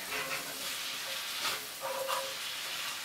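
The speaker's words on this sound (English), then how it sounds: "go ahead and mix the onions and garlic in" Onions and garlic sizzling in olive oil while being stirred, a steady hissing fry with brief louder scraping surges as the spoon moves through the pan.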